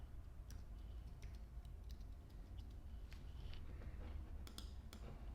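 Quiet, scattered clicks of fingers on a computer keyboard come in irregular bursts over a faint steady hum, with no voices.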